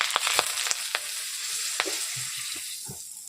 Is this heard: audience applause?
no